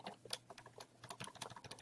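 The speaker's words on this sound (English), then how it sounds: "and then you can just start typing." Fast, light typing on a computer keyboard, a close flurry of soft key clicks with no one talking.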